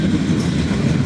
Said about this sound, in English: A big train.